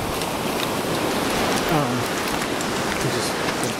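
Steady, loud rain falls during a mountain trail race in cold conditions, a dense unbroken hiss of drops close around the runner with no clear voices.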